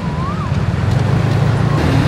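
A scooter riding in road traffic in Thailand gives a constant, close rumble of engine and wind noise, with passing vehicles blending into the roadway hum.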